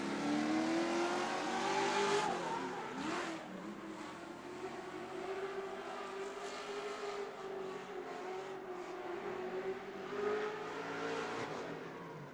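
Formula Drift competition car taking an easy lap at a Great Lakes ProAm round, its engine droning and rising and falling in pitch with revs, broad tire and exhaust noise throughout, heard from trackside without commentary.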